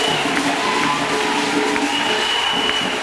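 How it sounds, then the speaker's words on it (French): A church congregation cheers and acclaims Jesus Christ, a dense, continuous roar of many voices shouting together at even loudness, with a few higher cries standing out above the crowd. "Acclamons pour Jésus-Christ."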